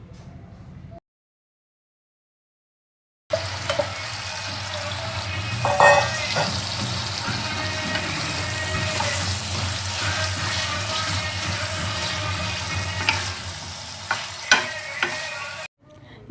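Paneer frying in butter and oil in a pan gives a loud, continuous sizzle with stirring scrapes after a short silent gap, ending abruptly.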